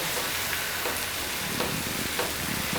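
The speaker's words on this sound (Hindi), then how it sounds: "ये ऐसे दबाते हुए पकाओ इसको" Bread for veg malai toast sizzles on a hot tawa griddle while being pressed down, a steady close hiss with faint scraping bursts, with no talk.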